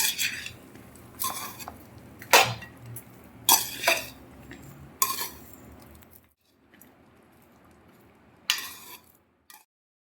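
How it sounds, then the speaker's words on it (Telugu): A metal spoon mixes mango rice in a pot, giving a series of sharp clinks and scrapes in irregular bursts, followed by a quiet stretch and one last clatter near the end. "ఇప్పుడు మనం అన్నం కలుపుకుందాం"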